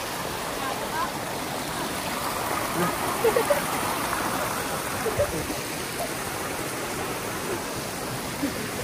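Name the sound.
strong flowing stream water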